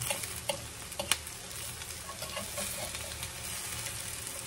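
Hash browns fry and sear in a good amount of oil in a skillet, a steady close sizzle and crackle with a few light spatula taps near the start.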